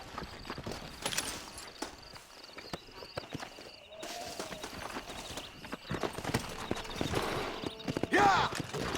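Horse hooves clopping in the Western video game Red Dead Redemption, a steady rhythmic gait running through game ambience with a brief whinny near the end and occasional voices.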